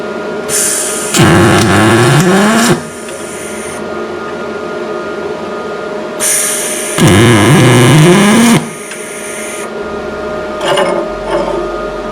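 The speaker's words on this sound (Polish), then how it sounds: "w trybie spot prądem 220 A szczepimy sobie te oto blaszki" A MIG 250 welder tack-welding thin steel sheets in spot mode at 220 A, two long loud hissing, crackling arc bursts followed by a brief third, with a steady machine hum in between and no talking.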